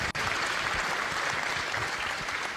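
Audience applause at a regional talent showcase event, a dense steady wash of clapping hands sustained throughout, filling the room without pause and no voices standing out.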